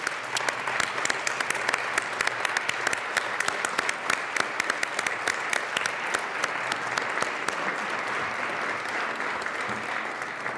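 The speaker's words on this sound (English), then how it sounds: "Let's now give them a round of applause." A large audience at an Outdoor Retailer show event claps steadily and loudly for about ten seconds, a dense, even patter of many hands with no voices standing out.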